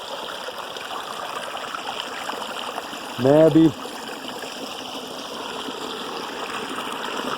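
Small mountain stream in a forest of Neelum Valley, Azad Kashmir, trickling and burbling in a steady, moderate wash, briefly interrupted by someone speaking a few words.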